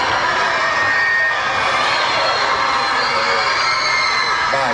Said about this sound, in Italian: goditi questo lungo interminabile applauso